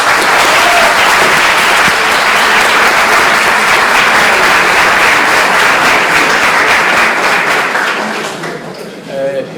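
Audience applauding at a debate: loud, sustained clapping from a crowd fills the room, steady for several seconds before thinning out at the end, with a voice speaking faintly beneath it.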